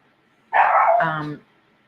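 A single loud, drawn-out bark from a nearby dog, about a second long, with silence before and after.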